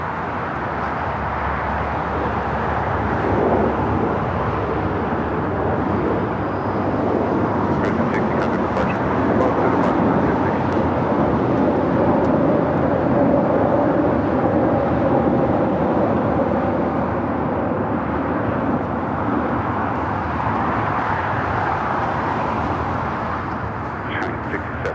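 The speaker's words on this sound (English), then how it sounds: "American 777 at 200 ER coming in from London Heathrow" American Airlines Boeing 777-200ER arriving at Los Angeles LAX from London Heathrow, a continuous moderate jet rumble that swells slightly in the middle and then eases, heard from a distance.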